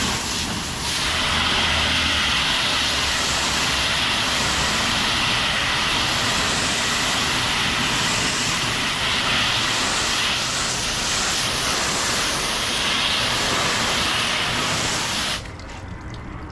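A car finished with Cerakote Professional Ceramic Coating gets rinsed with a strong, steady spray of water: a loud, continuous hiss that runs unbroken for about fifteen seconds and then cuts off abruptly.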